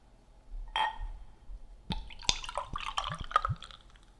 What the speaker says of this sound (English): let's pour out the amber.